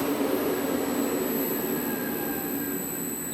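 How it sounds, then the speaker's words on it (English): An industrial fan winds down from 1400 to 500 RPM, a steady broadband whoosh with a faint tonal hum that holds loud and continuous, easing only slightly toward the end. "Slows down, and now stop the fan."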